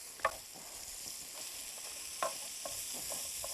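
Garlic fries in a pan during a home cooking show, producing a steady, moderate sizzle. A few sharp clinks and light utensil taps punctuate the sizzle, and nobody speaks.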